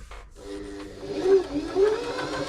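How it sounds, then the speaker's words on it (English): A Janome 525s sewing machine running a long straight stitch, a close mechanical whirring hum that starts after a brief pause and holds steady, with rising motor tones. "first thing I do is a straight stitch"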